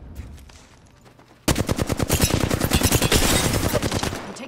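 Automatic gunfire in the game Apex Legends breaks out suddenly after a quiet moment, a loud rapid stream of close shots that then tapers slightly.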